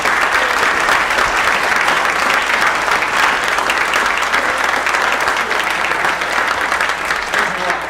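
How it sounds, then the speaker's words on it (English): Sustained applause from a large crowd, dense steady clapping at full volume from start to finish, with a few scattered voices mixed in. "Ladies and gentlemen, give me another round of applause for Vince Palamara."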